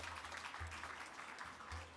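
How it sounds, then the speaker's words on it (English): Audience applause at a White House Correspondents' Garden Brunch, honoring an Army veteran and his family, a steady broadband wash of clapping throughout with low hum beneath. "I want to give them a round of applause to start"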